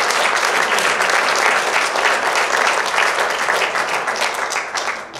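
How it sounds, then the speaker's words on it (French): Audience applause for a performer at a live show, steady dense clapping from a crowd throughout, loud and close, tapering slightly near the end. "Vous pouvez l'applaudir à Jonathan, parce que c'est pas facile."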